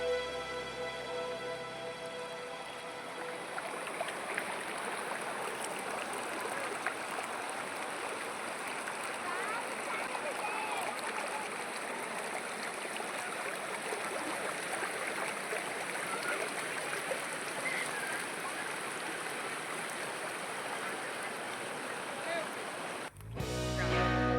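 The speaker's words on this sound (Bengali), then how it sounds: "আপনাদেরকে দেখাচ্ছি নিচে জলের ধারা" Water streams below the Chowkmahon bridge with a broad, steady rushing hiss, constant and fairly loud, with a brief break near the end.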